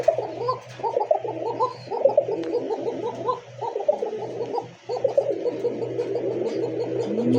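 A pair of pigeons, kept for sale, coo continuously and close by in overlapping rolling bursts with brief pauses and a few faint chirps, heard alone without talk.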